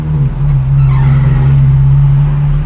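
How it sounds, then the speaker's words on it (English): A Ferrari F430 fitted with an iPE exhaust pulls hard on a highway, its loud, steady engine drone holding close and constant throughout, with a rising whine building underneath and no talking. "just to show you the sound of this car"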